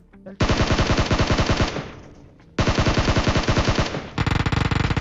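Rapid automatic gunfire in PUBG Mobile, loud and close, comes in two long sustained bursts with a short gap between them, then a third fast burst near the end.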